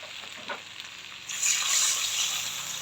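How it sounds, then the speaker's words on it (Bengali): Mixed vegetables frying in a pan for a vegetarian curry sizzle quietly at first, then swell into a louder, brighter sizzle partway through, with light stirring sounds nearby. "সব সবজি ভাজা অল্প করে ঝোল দিয়ে দিব।"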